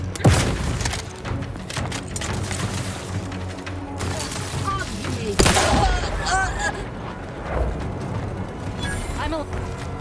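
A grenade blast in the game The Outer Worlds 2 during a boss fight, heard as sharp booms amid a continuous barrage of gunfire, with a voice calling out over the loud, busy battle.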